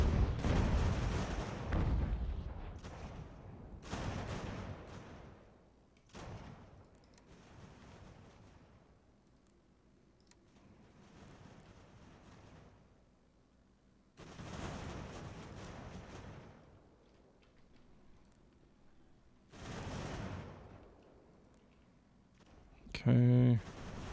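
Cannon artillery fire in Ultimate General: American Revolution during an assault on forts: a series of heavy booms spaced several seconds apart, some near and loud, others distant, under intermittent talk.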